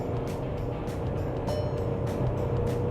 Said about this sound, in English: I can hear some amount of engine noise